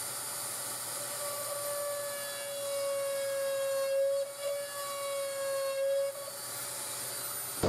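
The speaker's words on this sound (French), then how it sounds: "Mauvais départ, la mèche 1 mm, elle brûle mon bois." A drill with a 1 mm bit bores into a decorated wooden vase, giving a steady high whine that wavers slightly in pitch throughout, close and fairly loud, with no talk.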